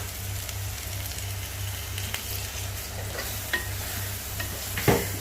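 Crab masala with Kashmiri chili sizzling in a pan, a steady loud fry with scraping strokes of a stirring utensil and one clink near the end.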